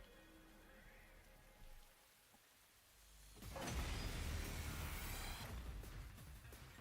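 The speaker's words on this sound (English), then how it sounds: "Starting to rain, nice." Steady rain pours down in a video game, a broad hiss that swells in loudly after a quieter stretch with faint mechanical noises, then continues strongly to the end.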